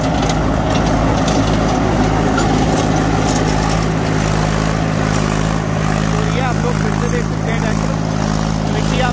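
A Mahindra 265DI tractor pulls a 7 ft KSD rotavator through a field at about 2100 RPM, a loud, steady diesel drone with a constant low hum and churning mechanical noise throughout.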